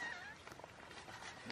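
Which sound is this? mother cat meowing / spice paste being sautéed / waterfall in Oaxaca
mother cat meowing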